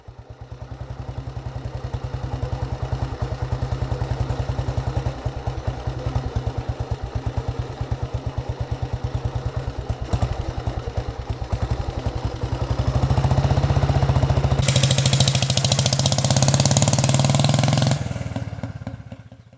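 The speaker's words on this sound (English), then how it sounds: "Let the engine settle a moment." A vintage Panther motorcycle's single-cylinder engine thumps steadily at idle on a warm September day, then a hand-change lever clunks it into first gear and the note swells louder and rougher before cutting off.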